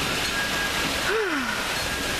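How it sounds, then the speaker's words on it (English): Heavy rain pours down during a storm as a steady, dense hiss close by, with no talk. "I don't know if you guys can see how hard it's raining."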